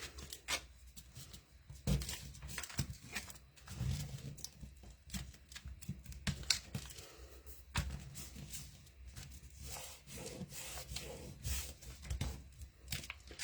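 Sheet of tinfoil crinkled and crumpled by hand for a craft texture, a steady run of dry crackling and crunching bursts at close range, with no talking.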